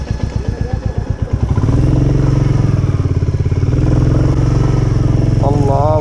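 A Royal Enfield motorcycle engine labours in sand, a loud, close, uneven thumping that swells and strains as the throttle is worked, with a voice talking over it.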